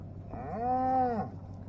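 A single cow on a farm with newly tagged heifers gives one clear, sustained moo about half a second long, close and moderately loud over a quiet background.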